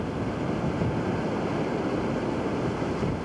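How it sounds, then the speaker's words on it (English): Strong wind roars across the coast, a dense, unbroken rumble with buffeting against the microphone, heard while cycling along the Skeleton Coast. "The wind. Well, it's just way more severe today"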